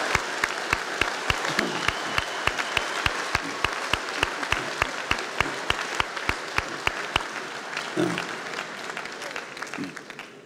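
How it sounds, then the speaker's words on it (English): Sustained applause from a graduation ceremony audience for the 2016 graduating class, a steady mass of clapping with sharp regular claps near the front, easing off and fading out toward the end. "let's give this particular cohort of the graduating class of 2016 a deserved round of applause"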